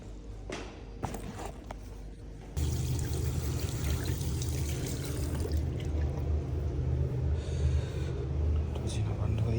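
Water runs steadily over tulsi leaves being washed at home, a close, continuous splashing and pouring that begins abruptly after a few seconds of quieter handling noises and footsteps.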